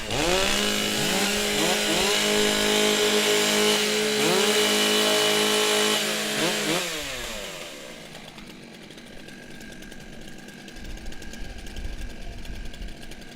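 Several chainsaws rev loudly together at a STIHL Timbersports woodchopping competition in New Zealand, the pitch rising and falling in overlapping bursts before cutting off and leaving a quieter, rumbling idle.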